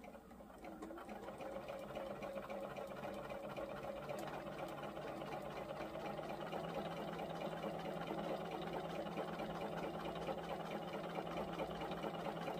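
A sewing machine stitching quilt triangle pieces runs steadily throughout, a continuous close mechanical whir and rapid needle chatter at constant speed with no pauses and no talking.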